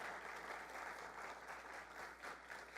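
A church congregation applauding: sustained, even clapping from many hands at a moderate distance, continuing without a break and without speech.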